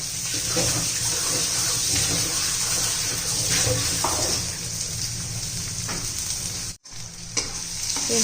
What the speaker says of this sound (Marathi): आता त्याच्यामध्ये आपण कांदा घालू कांदा जरा मोठा मोठा चिरून घ्यायचा आहे चांगलं परतू द्यायचा आहे